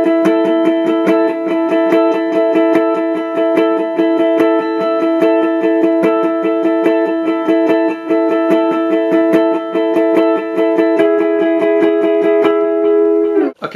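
Electric guitar lead line over the chorus of a worship song, a sustained held note with strummed repeating harmonics, steady and loud throughout, played alone with no talking.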